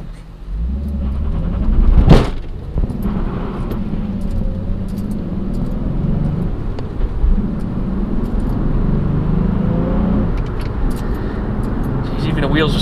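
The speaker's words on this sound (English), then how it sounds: "Just barely on the throttle and the wheels are spinning." A VW bus driving with its wheels spinning in fourth gear gives a continuous low engine and road rumble throughout, with a loud knock early on and someone talking over it.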